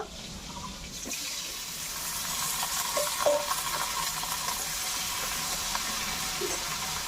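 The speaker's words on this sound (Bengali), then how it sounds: "আমি বেগুনগুলো ভেজে নেব।" Eggplant pieces fry in hot oil in a pan, left over from frying potatoes, with a continuous broad sizzle close by and a few faint clinks from stirring, without voices.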